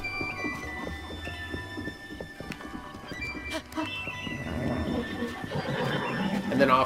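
A horse in Zelda: Breath of the Wild neighs and whinnies amid steady clip-clopping hooves and game ambience, fairly loud and continuous with no talk over it.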